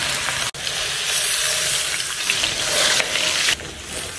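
Pork loin sears in hot oil in a pan, giving a steady, loud, close sizzle with one brief dip in the middle and no talking.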